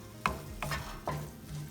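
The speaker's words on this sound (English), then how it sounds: "Gotta mix it around aggressively all around on low heat." Egg bhurji stirred in a pan over low heat, a soft, faint sizzle with three distinct spatula scrapes spaced about half a second apart, quiet and close, without speech.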